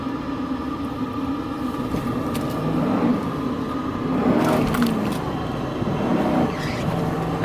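A Mercedes-Benz W140 S500 saloon, low on fuel, accelerates hard and its engine note swells and climbs in two pushes. It is heard from inside the cabin at moderate loudness, with no one talking.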